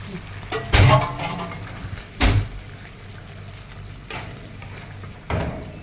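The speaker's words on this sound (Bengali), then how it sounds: "আমার মশলাটা কষে গেছে, আমি এখন বেগুনটা ঢেলে দিব।" Eggplant is poured into fried spice mix in a pan for a Bengali eggplant chutney, with a couple of thumping clatters and a soft sizzle underneath, plus a few later stirring scrapes.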